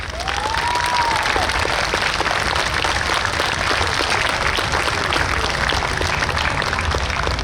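Steady, dense applause from a large outdoor crowd at a New York State Police special operations response exhibit, honoring fallen officers; the clapping holds loud and even throughout.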